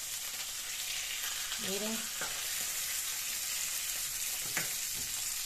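A sea bream fillet fries in a pan with a steady, even sizzle throughout and a couple of brief scraping stirs. A voice says a single word partway through.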